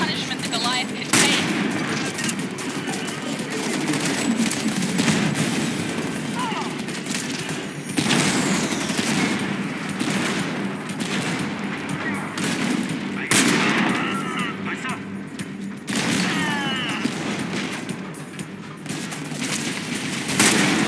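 Dense, continuous gunfire and explosions fill a shipyard battle in the video game Homefront The Revolution, with repeated heavy bursts and booms throughout and voices speaking beneath the combat.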